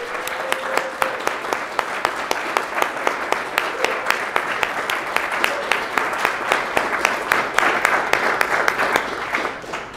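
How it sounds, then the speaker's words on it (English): Audience applause for the NACIS board at a hybrid conference lunch and business meeting, a steady crowd clapping with many sharp hand claps that continues for the full stretch, with a faint murmur underneath. "if everybody could help me give a round of applause for the NACIS board"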